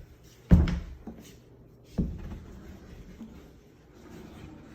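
A house door opens, giving a sharp knock-like thud followed by a second, softer bump about a second and a half later, both fairly close in a quiet room with faint background shuffling.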